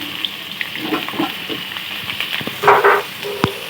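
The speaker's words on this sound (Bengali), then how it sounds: "একটু আলুটি ভালো করে ভেজে নেবেন" Potatoes fry in hot oil in a pan for a Bengali gondhoraj chicken dish, giving a steady close sizzle with brief bursts of louder crackle and a few light stirring taps, no talk.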